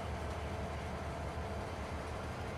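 Steady rumbling drone of a train running in the video game Farming Simulator 22, a continuous low mechanical hum without distinct clicks, moderately loud and unbroken throughout.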